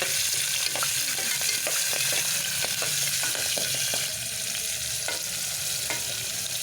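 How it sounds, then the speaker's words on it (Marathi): A spice masala fries steadily in a hot pan while green peas go in, giving a loud, continuous sizzle with repeated clicks and scrapes of a stirring spoon and no talk. "मसाला चांगला फ्राय झाल्यावर यात आपण घालणार आहोत मटार"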